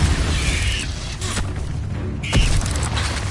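Spell blasts in Hogwarts Legacy: loud, booming bursts of magic, several quick impacts with brief whooshing flares, densely packed over a few seconds.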